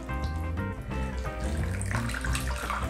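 Water pouring into a dish of crushed garlic to make a marinade for pounded chicken breast, a steady close gurgling stream that grows slightly brighter and splashier as the dish fills.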